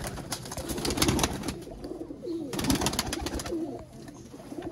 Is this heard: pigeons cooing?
yes